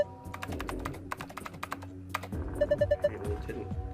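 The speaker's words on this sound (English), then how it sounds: "Keyboard doesn't seem to be working though." Rapid keystrokes clatter on an old computer keyboard inside a video game, a dense run of clicks followed by a short series of evenly spaced beeps over a low background hum.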